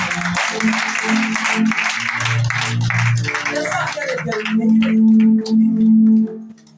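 A church congregation applauds and acclaims during a worship service, a loud, dense wash of clapping and cheering that gradually thins, with sustained musical tones underneath and voices rising through it.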